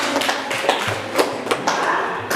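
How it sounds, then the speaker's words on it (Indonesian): Classroom audience clapping for a student group that has just presented in a lesson, a dense, steady patter of many hands lasting a couple of seconds without a break. "kasih aplaus dulu untuk kelompok 4 yang sedang"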